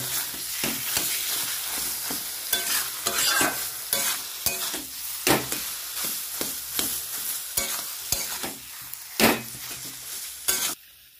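Mashed eggplant and potato are stirred in a pan, making repeated scraping and clattering stirs over a steady frying sizzle, close and fairly loud, with no speech.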